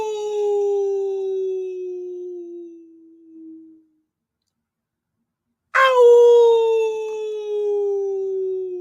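A person imitates a coyote howl with two long, loud, falling wails, the first sliding downward and fading out, then a gap of silence before a second sharp, rising-then-falling howl.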